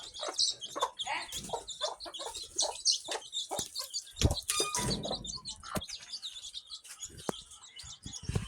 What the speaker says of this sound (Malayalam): നമ്മൾ കോഴിക്കുഞ്ഞിനെ ഇറക്കിയിട്ടുണ്ട്.